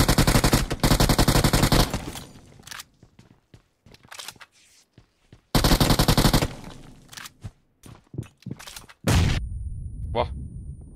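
Bursts of automatic gunfire from the video game PUBG / BGMI, loud and close, come in two long volleys with shorter shots between them and a brief quiet tail.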